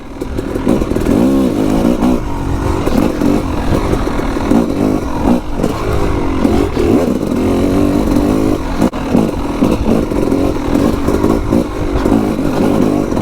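A Yamaha YZ 250 two-stroke dirt bike engine runs loud and close on a trail ride, holding a steady buzzing drone with repeated small rises and dips in revs throughout, no voice heard.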